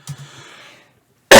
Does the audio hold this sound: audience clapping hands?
no